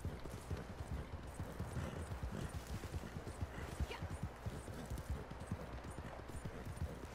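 Horse hooves clip-clop steadily on a road at a brisk, even walking rhythm, fairly close and continuous over faint background noise.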